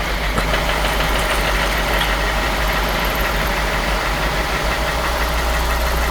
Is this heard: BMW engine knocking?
yes